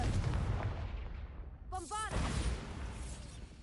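Confringo and Bombarda spell blasts in Hogwarts Legacy, a couple of sharp magical booms with a brief swirling whoosh, close and loud amid game ambience, with a voice shouting the spells.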